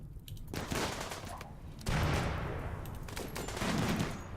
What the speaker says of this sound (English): Especially since Wright is firing upon you